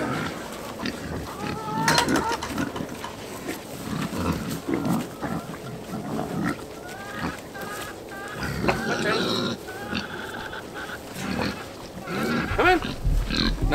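KuneKune pigs grunting and snorting close by on a farm, with clucking chickens mixed in and a person calling out intermittently.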